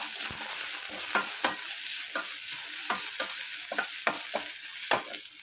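Onions sautéing in a pan give a soft continuous sizzle, with a regular run of short scraping stirs repeating every half second or so, close and fairly quiet.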